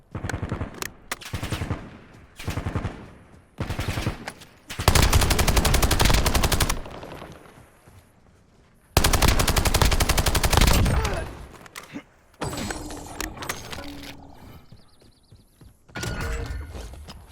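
Bursts of machine gun fire in the Call of Duty Warzone video game come in loud, rapid volleys of varying length, some sustained for two seconds, separated by short gaps and quieter clicks.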